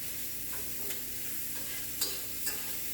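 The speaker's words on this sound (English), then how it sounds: "just because that pan is starting to get a little dry, I'm just going to add a little scoop of butter" Butter sizzles in a hot pan with tomatoes, a soft continuous hiss that is fairly quiet, broken by a few light clinks and scrapes of a utensil.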